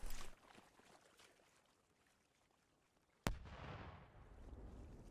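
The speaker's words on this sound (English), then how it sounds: "that's an explosion." A distant explosion in the military video game Squad comes as one sharp, loud blast that rolls into a lingering low rumble, after several seconds of faint background noise.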